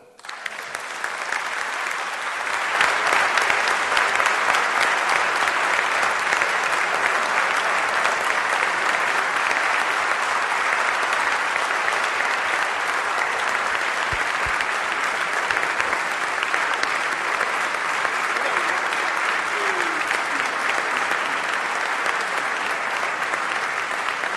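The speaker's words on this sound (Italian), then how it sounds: "Grazie Umberto, questo applauso appunto testimonia quanto è stato diciamo, simpatico" Sustained audience applause at a university academic year inauguration ceremony, a dense, even patter of many hands clapping that rises quickly after a moment and holds steady for over twenty seconds.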